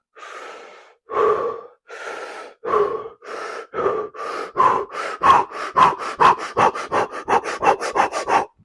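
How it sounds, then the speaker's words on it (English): Forceful, deliberate breaths before lifting heavy dumbbells, starting as slow spaced huffs and speeding into a rapid, rhythmic series of sharp, loud exhales and inhales close to the mic. "I like to breathe like this."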